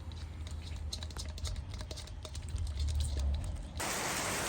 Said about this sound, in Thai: ฝนตกลงมา